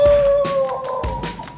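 A dog howls on a wavering sustained tone, then breaks into shorter yelping cries, close and fairly loud outdoors at night on a street after dinner.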